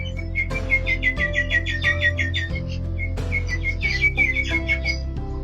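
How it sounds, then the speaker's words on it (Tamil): Birds chirp and trill in quick, overlapping bursts over a steady low hum, with several calls layered close together throughout. "இன்னொரு பக்கம் பறவைகளின் ரிங்காரிடும் ரிங்காரம் இடும் சத்தம்"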